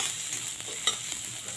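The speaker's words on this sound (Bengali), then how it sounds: "পেঁয়াজটাকে আমি লাল লাল করে ভেজে নেব" Chopped onion frying in oil with cumin seeds, giving a steady, close sizzle with soft stirring scrapes and no voices.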